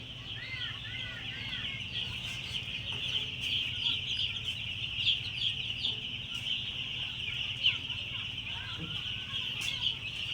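Two-day-old baby poultry birds crowd together on a raised platform, making a dense, continuous chorus of high chirps close by, with some lower clucking mixed in.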